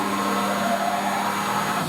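Machine tool X and Z axes traversing at 50% feed rate, giving a steady, loud mechanical whir and hum with a constant tonal drone, unbroken and close for the whole two seconds.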